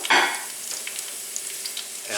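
Rosemary fries in oil, sizzling and crackling steadily with small popping spatters, starting with a brief louder burst, close by and without talk.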